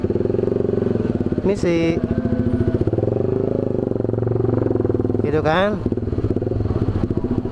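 A Honda Sonic 150R motorcycle engine runs steadily throughout as the bike is ridden, its rapid pulsing drone loud and close, while someone talks briefly over it.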